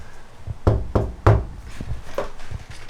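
Several dull, low knocks land on a sound-deadened van panel, three firm thuds in quick succession followed by softer taps, close and unaccompanied.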